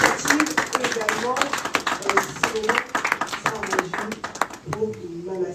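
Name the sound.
audience applause at a press conference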